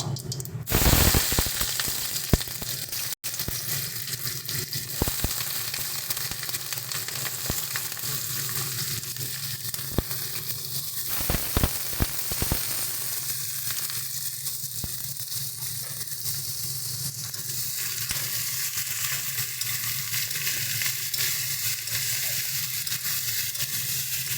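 Cut potatoes fry in hot oil tempered with cumin seeds for aloo posto, with a steady close sizzle throughout, scraping stirs and occasional clatters against the pan.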